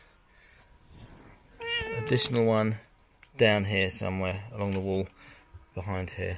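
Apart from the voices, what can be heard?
cat meowing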